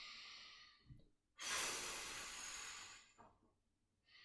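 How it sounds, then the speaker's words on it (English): A slow, deep breath during a kneeling mobility stretch, a long airy exhale swelling and fading over a few seconds, close and alone, with softer breaths before and after. "Nice deep breaths every time."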